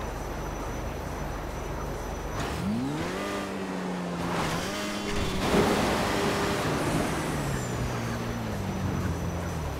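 A motorcycle engine in a video game revs and climbs in pitch in repeated surges, holding steady between pulls, loud and continuous over a low background with no talking.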